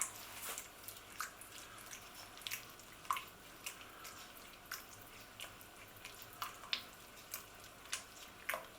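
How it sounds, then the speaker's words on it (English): A spoon stirs cocoa into a vegetarian soya mince chilli, making soft, wet squelching and scraping sounds in a quiet, irregular rhythm close up. "Sprinkle it over the top. Let's give it a good stir in."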